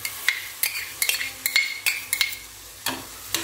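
Kashmiri chili and garlic paste being sautéed in butter for cheese green pav bhaji, a string of about a dozen sharp metal spoon clinks and scrapes against the pan over a faint sizzle, close.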